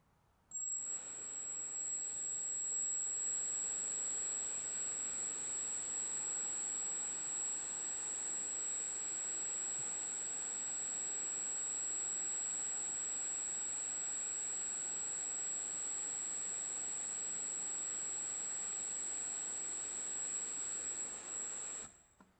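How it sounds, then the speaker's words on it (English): An electric ducted fan spins at steady test speed for a balancing measurement, giving a faint, constant high-pitched whine that starts and stops abruptly, with no talk over it. "now we're going to run the EDF at the test speed and measure the imbalance there"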